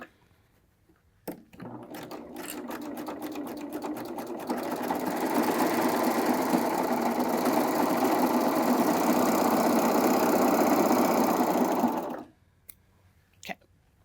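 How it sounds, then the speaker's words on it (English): A serger sewing machine stitches fabric in one continuous, steady run of about ten seconds, with a few clicks just before it starts and quiet handling after it stops. "giving myself about 2 to 3 inches, and then just begin serging again"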